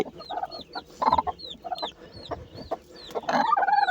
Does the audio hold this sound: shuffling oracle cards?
no